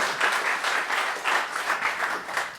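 A comedy club crowd gives a round of applause, with dense clapping swelling and easing in small waves for a couple of seconds.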